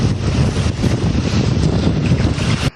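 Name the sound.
strong wind on a lake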